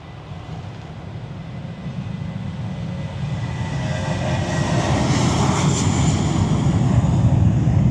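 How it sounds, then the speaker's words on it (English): A passenger plane takes off at Lanzarote airport, its broad jet-engine roar building steadily and growing louder over several seconds with no talking. "Here's a plane taking off, look."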